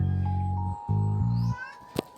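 An asthmatic cat gives low, drawn-out meows in two close, fairly loud calls separated by a short pause, over a faint steady hum.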